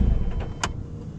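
A 2020 Lotus Evora GT being switched off: a short mechanical click and brief whir from the cabin over a low, steady engine rumble that fades.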